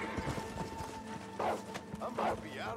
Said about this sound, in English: I'm breaking a horse.